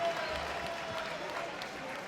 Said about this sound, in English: definitely a big round of applause for Leigh Salters